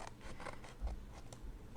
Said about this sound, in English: come in here with your scissors and trim it up